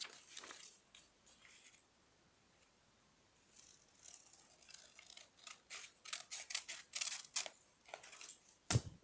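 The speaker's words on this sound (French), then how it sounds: "on a juste à découper ce côté-là." Scissors snip through paper while an England flag is cut out, a run of sharp, close crisp cuts that grows busier and louder toward the end, with no talking over it.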